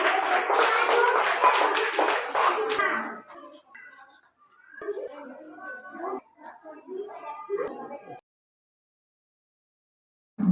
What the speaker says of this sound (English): clap your hand